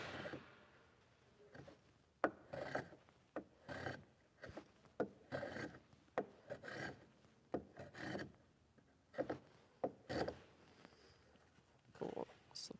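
Japanese hand plane drawn along wood in repeated rasping strokes, each a short shaving swish at an uneven pace, fairly faint, with faint warehouse noise behind.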